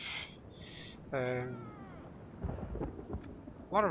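Rain and thunder in a Third Age: Divide and Conquer Total War battle, a soft steady hiss with a deeper rumble rising near the end, mixed with short harmonic cries and someone speaking over it.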